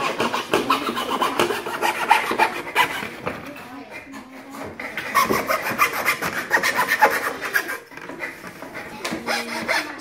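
Hand fretsaw cutting through wood in steady rapid rasping strokes, close and fairly loud, with brief pauses between runs of strokes and people talking over parts of it.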